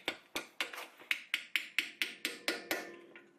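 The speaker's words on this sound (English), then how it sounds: "So I just need to use the hammer and a screwdriver" A hammer drives a screwdriver against the star locking ring on a 4WD wheel hub, giving about twelve sharp metallic taps in an even quick rhythm, close and clear with no talking.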